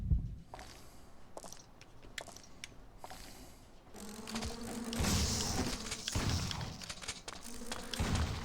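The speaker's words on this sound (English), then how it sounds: "They're not bees, Mark, they're wasps." Wasps buzzing in the game Resident Evil Outbreak, a faint drone at first broken by thumps, then a louder swarm hum with mechanical clicks building in the second half.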